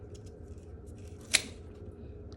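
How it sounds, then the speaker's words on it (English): Sharp scissors cutting a Monstera stem, one quick crisp snip standing out against a quiet room background. "these are some very sharp scissors"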